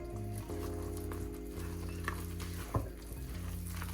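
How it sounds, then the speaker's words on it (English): Buttermilk biscuit batter is stirred in a bowl, producing faint, soft wet mixing sounds over a low background hum, with no voices. "And then I'm just gonna mix that together."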